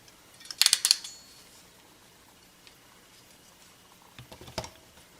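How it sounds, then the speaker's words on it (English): A ratcheting crimping tool clicks through a quick cluster of sharp ratchet clicks while it is squeezed shut on a test lead, then goes quiet before a second, softer run of clicks as it releases. "Now this is a ratcheting tool. I have to take it the whole way down before it will release."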